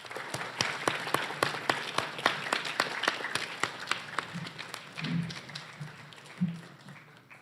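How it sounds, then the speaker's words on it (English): An audience at a school Veterans Day ceremony applauds steadily, with many sharp hand claps crackling together in a moderately close, lively burst that eases off toward the end. "Let's give another round of applause for our poets and artists."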